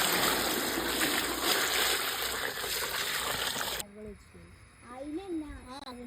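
Freshly picked mangoes washed in water, a steady splashing, rushing wash for several seconds, then quieter trickling and sloshing as a voice talks over it.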